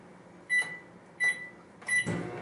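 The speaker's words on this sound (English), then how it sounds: "set the microwave for another 45 seconds" Three short electronic beeps from a microwave oven keypad, evenly spaced, each a bright tone; a faint low hum starts after the last one.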